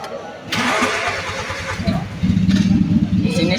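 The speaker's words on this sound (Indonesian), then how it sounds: "Di sini saya akan memastikan starter dan pengisian bekerja dengan baik." A car's starter motor cranks with a rapid rhythmic whir, then the engine catches and settles into a steady idle, loud and close throughout.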